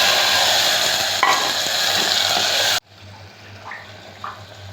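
Tomatoes go into a hot pan of sambar seasoned with asafoetida and turmeric, giving a loud sizzling hiss that suddenly cuts off, followed by quieter stirring and faint scraping.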